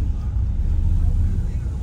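Low rumbling engine drone of a boat departing a harbour near Sydney, steady and close under wind, a continuous hum with no distinct talk.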